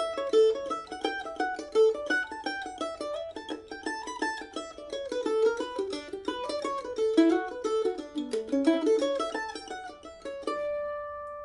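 A mandolin plays a solo on the second half of the B part of Fisher's Hornpipe, dense rapid runs of picked eighth notes, bright and close, finishing on a ringing held note.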